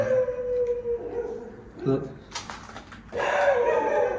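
Dogs howl at night in a drawn-out, wavering way, rising again after a short lull, with people talking over them.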